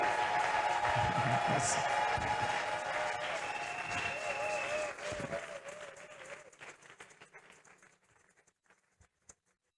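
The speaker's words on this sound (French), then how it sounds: "Tobeteli nzambe maboko makasi" A church congregation at a Bible seminar in Kinshasa applauds for the pastor with loud, dense clapping that thins and fades out over several seconds, with a few scattered claps at the end.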